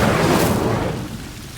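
Casting the Incendio fire spell in Hogwarts Legacy sets off a loud, close fiery burst that whooshes out and slowly fades over a second and a half.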